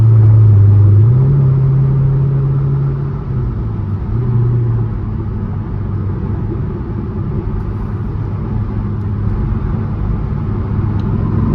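A loud C7 Corvette V8 rumbles as the car is driven at night, deep and close from inside the cabin, with a throaty rise in revs early on, then a steady cruising drone.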